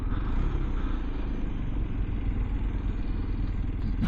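A 2024 Kawasaki Z125 motorcycle's small engine drones as it climbs a hill, a steady low rumble under wind buffeting, ending in a brief clatter.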